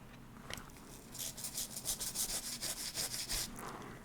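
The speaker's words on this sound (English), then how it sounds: "I don't want to scrub the words as long as I scrub the background, so I'm just kind of going around it." A toothbrush scrubs a photopolymer stamp plate in quick, rhythmic strokes, a near, steady bristly rubbing that rises after a brief pause and runs alone without talk.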